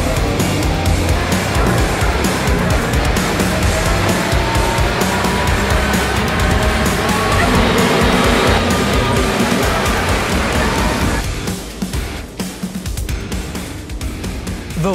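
TYM 2515 compact tractors race at full throttle, a steady loud engine roar with wind buffeting that holds for about eleven seconds before easing off.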